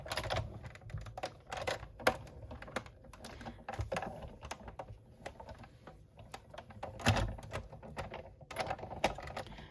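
Paper and cardstock sandwiched with a top plate are cranked through a BetterPress embossing machine, giving a run of quiet, irregular clicks and ratcheting taps close by, with no voices.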